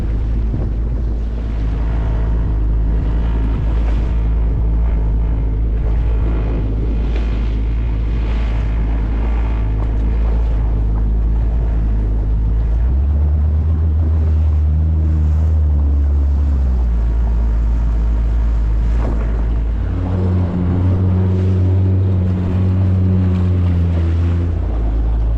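A solo jet ski crosses an ocean inlet at Effingham Inlet in a loud, continuous engine drone that rises and falls in pitch, with heavy wind buffeting the microphone and water rushing throughout.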